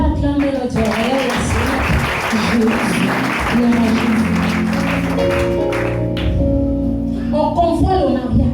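A church congregation breaks into loud applause and cheering, a continuous wash of clapping blended with shouting voices and what sounds like organ or keyboard tones sustaining underneath.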